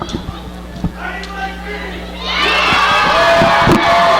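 A wrestling crowd cheers for Jay Lanza, starting with scattered shouts and claps, then swelling into a loud, sustained roar of cheering and children's shrieks in an arena.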